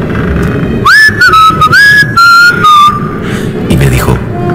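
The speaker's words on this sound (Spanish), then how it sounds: "Él se puso a silbar" A man whistles a short melodic tune of several sliding, sustained notes, loud and close over a low background hum, within a dramatized Spanish audiobook of Poe's The Narrative of Arthur Gordon Pym.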